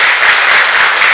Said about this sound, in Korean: 박수 한번 쳐주시기 바라겠습니다.